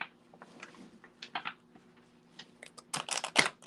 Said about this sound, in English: These cards are not shuffling right today.